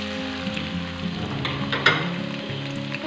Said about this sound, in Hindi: प्याज को हमने ऐड कर दिया है। अब हम इसे लाइट गोल्डन ब्राउन होने तक भूनेंगे, मीडियम टू हाई फ्लेम पर।